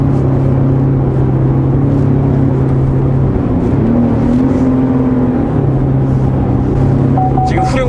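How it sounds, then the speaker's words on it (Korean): Chevrolet Colorado pickup truck driving in rear-wheel drive mode, heard from inside the cab as a continuous loud engine and road rumble with shifting drone tones throughout. "후륜구동 모드로 가고 있습니다."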